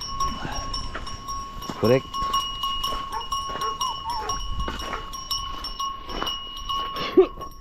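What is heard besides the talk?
flock of sheep with cowbells arriving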